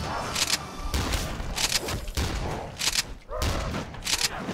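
Shotgun blasts in Call of Duty: Black Ops 3 zombies mode, several loud booming shots at irregular intervals over dense game noise and background chatter.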